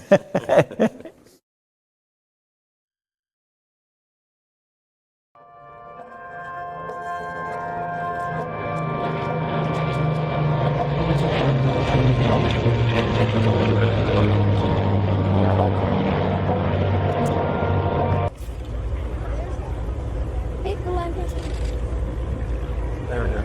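An Avro Lancaster, the Canadian Warplane Heritage's four-engine propeller bomber, drones in flight. After a brief sound and a few seconds of silence its engines fade in and hold a loud, sustained hum with steady tones, then continue slightly changed near the end.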